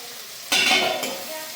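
Ridge gourd added to a hot pan for a gourd and moong dal dish, giving a sudden sharp sizzle with a stirring scrape that fades into a softer, steady frying hiss.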